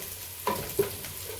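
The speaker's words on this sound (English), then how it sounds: "let's fry our onions" Onions frying in a pan for a matoke and beef dish, a steady sizzle broken by two short stirring scrapes, close and with no talking.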